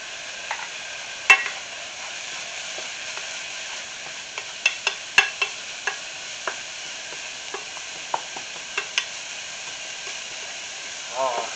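Pizza sauce ingredients sweating in a hot pan with salt and pepper, a faint steady sizzle broken by occasional stirring clinks and scrapes, fairly quiet and without speech.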